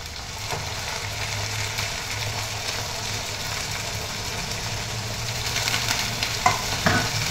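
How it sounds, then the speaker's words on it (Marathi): Potato slices frying in oil for batata poha, a constant close sizzle with occasional spatula scrapes and light knocks near the end, steady and moderately loud with no voices. "त्यानंतर हे बटाट्याचे काप टाकूया."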